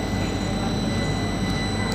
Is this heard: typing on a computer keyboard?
no